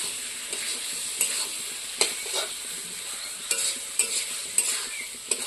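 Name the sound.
sautéing and stirring paneer mixture in a pan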